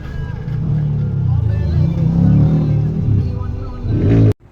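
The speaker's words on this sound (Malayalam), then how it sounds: "ബൈക്ക് റേസിന് വന്നിട്ടുള്ളൊരു വണ്ടിയാണ് കേട്ടോ അതാ പോയത്" A racing motorbike on a test run at a beach roars close by, its engine revving loud and steady before cutting off abruptly at the end.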